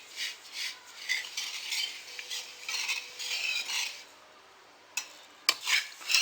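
Broken wheat being stirred while dry-roasting in a pan, soft repeated scraping and rustling strokes of a spoon against the pan, faint and close, with brief pauses and a couple of sharper clinks.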